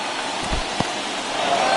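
A stadium crowd of more than 37,000 in the MLB The Show 21 baseball game gives a brief, steady, hissing roar as they rise to their feet.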